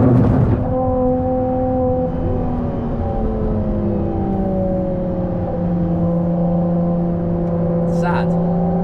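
Ferrari 296 GTB at speed on the Nürburgring, a steady loud engine drone with rising and falling harmonic tones as it shifts and pulls through gears, continuous from start to end with no talking over it.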